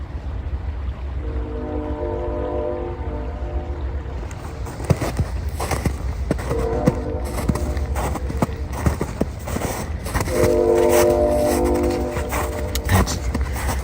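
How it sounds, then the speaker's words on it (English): A train horn sounds in several long, sustained blasts over a low rumbling background, with clattering and knocking noises scattered throughout, heard while hiking along a river in northeast Ohio. "that train was going to blow its whistle"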